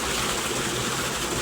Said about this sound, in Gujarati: વોશ ભરીને તો મોટર બંધ કરીએ.